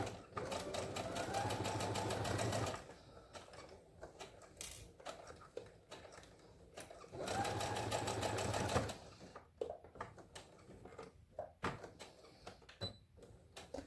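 Sewing machine stitching long basting rows to gather fabric, two steady runs of motor whir and rapid needle chatter a few seconds each, separated by quieter handling clicks and knocks of fabric and presser foot.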